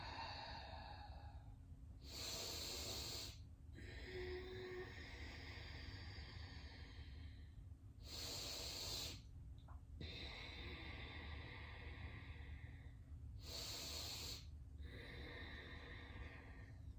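Slow, steady breathing during a seated yoga twist stretch for shoulders and hips: three long, broad breath sounds spaced about six seconds apart, close and fairly loud, over a constant low room hum with no talking.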